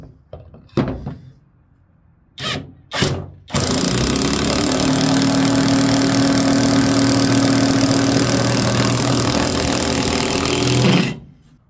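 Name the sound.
Alloyman brushless 1/2 inch impact wrench driving a 6-inch lag screw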